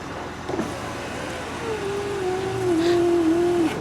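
A 2008 Impala's rear electric window whirs upward after a regulator replacement, with a rising motor whine, ending as the glass seals shut; nearby, no talking.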